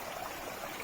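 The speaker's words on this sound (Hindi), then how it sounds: "और एक सेंटर से आ रहा है ये झरना, और बाकी दोनों तरफ से आ रहा है।" Water splashing steadily down an artificial waterfall fed through plastic pipes by a motor pump, a continuous close wash of falling water with no voices.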